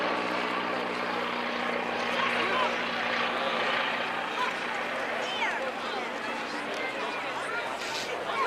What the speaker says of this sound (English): One of only two of these autogyros that still exist, and this is the only one that is still flying.